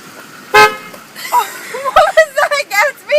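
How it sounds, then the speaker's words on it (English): A 1920s car horn gives a sharp, loud honk, followed by people talking and laughing close by. "Why don't you try the horn?"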